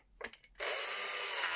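A part is screwed into a Rubina 420 overlocker with a power screwdriver: a few short, close whirring bursts, then a steady, loud high-pitched drive that runs without pause, with no speech over it.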